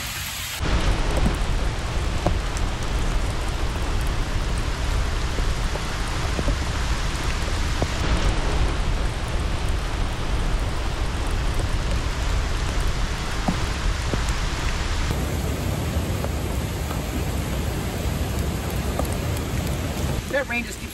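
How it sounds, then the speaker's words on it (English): Steady rain pours down on a mountain car-camping site near a waterfall, a dense constant hiss of drops on surfaces that stays loud and even throughout. "That rain just keeps starting and stopping."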